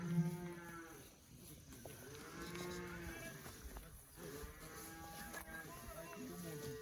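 Dairy cows on a farm in Uganda give low, drawn-out moos that overlap in the background, faint and distant, with soft voices murmuring underneath.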